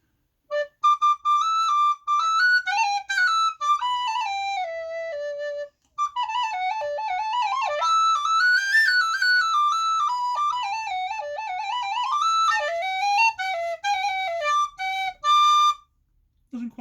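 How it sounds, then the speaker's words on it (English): A whistle plays a wavering, breathy melody of held and sliding notes for most of the stretch, with brief pauses. "it is indeed a whistle. I don't know if I can play it."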